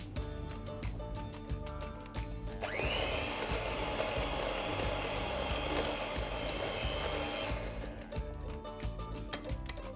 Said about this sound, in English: I'm going to start creaming my butter and sugar